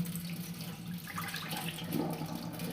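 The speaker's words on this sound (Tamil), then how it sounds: "கழுவுன கம்பையும் பாசிப்பருப்பையும் தண்ணி வடிய விட்டுறலாங்க." Soft trickle and splash of water draining from washed pearl millet and moong dal in a kitchen, faint and continuous with a low steady hum beneath.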